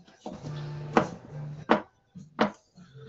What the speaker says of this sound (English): I'm chopping the cucumber up.